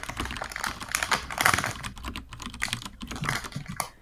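Rapid clattering on a computer keyboard, with bursts of close keystrokes broken by brief pauses, heard clearly with no talking over it.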